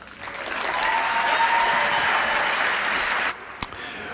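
An audience applauds after a speech at a political event, with dense, steady clapping from a large crowd for about three seconds before it cuts off abruptly, followed by a brief thump.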